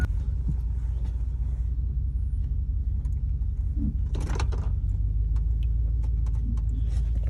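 A car engine idling and rolling slowly while being driven up to a vehicle with a dead battery, a steady low rumble with a few faint clicks and thumps over it.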